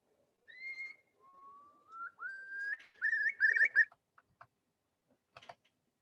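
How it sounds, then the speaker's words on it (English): A curlew sings alone: a few separate whistled notes, then a rising, bubbling trill that swells and breaks into rapid warbles before trailing off into short faint calls against a silent background. "when a curlew sings, it sounds like this."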